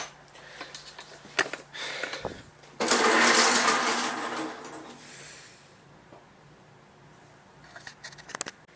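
A Milwaukee power drill runs on its number 2 setting in a garage beside an Ariens snow blower, a steady whirring burst for a few seconds amid clunks and handling noises, with no talk.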